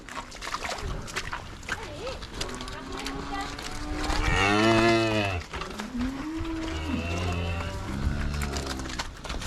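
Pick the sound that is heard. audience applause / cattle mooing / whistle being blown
cattle mooing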